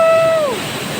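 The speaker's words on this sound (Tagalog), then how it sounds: "Akala nyo lang mahina yung tubig pero pag nandito kayo ang lakas ng ano, tapon ng tubig" Gabaldon Falls on the Dupinga River in Nueva Ecija pours with strong rushing water, giving a loud, broad, continuous roar. A voice briefly calls out a rising-and-falling whoop over it.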